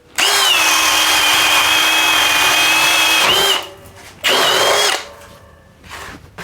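A Milwaukee 2804-20 half-inch hammer drill/driver runs hard under load for about three seconds, a loud high whine that dips as it slows, then gives one shorter burst before falling quiet.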